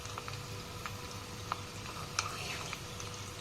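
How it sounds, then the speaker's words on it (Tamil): Chicken pieces deep-frying in hot oil for Tamil-style chilli chicken: a faint, steady bubbling sizzle with a few soft scattered pops and crackles, no talking. "ஸோ எல்லாத்தையும் நான் பொரிச்சு எடுத்துட்டேன்."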